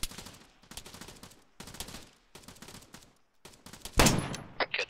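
Suppressive gunfire in Arma 3, bursts of automatic fire separated by short pauses, then a louder sharp crack near the end followed by scattered shots.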